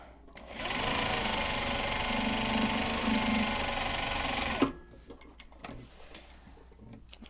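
A sewing machine stitches a Japanese fabric project bag, running at a steady whirring, ticking pace for about four seconds before stopping. Then come quieter clicks and handling noises of the fabric.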